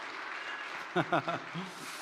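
A church congregation applauds during a sermon, a continuous wash of clapping in the background while someone speaks briefly over it.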